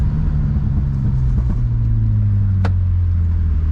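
A BMW E36's engine rumbles loudly and steadily right after a clutch kick slide, a deep close drone holding its pitch, with one brief sharp squeal near the end.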